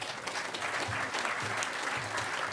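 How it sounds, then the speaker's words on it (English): Crowd applause at a hacker conference closing ceremony, a continuous soft wash of many hands clapping, moderately distant, with a low rhythmic thump pulsing underneath. "And a round of applause for Kyle,"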